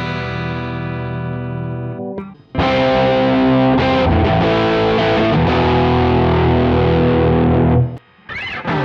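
A crunch-style distorted electric guitar tone from the Blue Cat Audio Axiom amp plugin: a ringing chord fades out, then a loud, steady distorted strummed passage plays for several seconds and breaks off near the end, with no voices.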